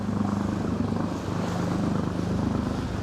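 Fishing boat WK19 motors into a harbour on Scotland's east coast, its engine a steady low throbbing drone heard from a short distance, fairly loud and unbroken, with no one talking.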